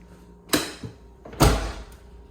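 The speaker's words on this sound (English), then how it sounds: "make sure the door opens all the way." Door of a Dodge Daytona Turbo Z being opened during a test fitting in a garage: a couple of sharp clunks and a thud spread over two seconds, close and fairly loud with no talk.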